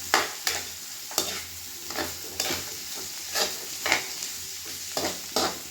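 Garlic and onion sauté in a hot pan with a steady sizzle and fry, broken by repeated scraping stirs of a utensil at close range; no talking.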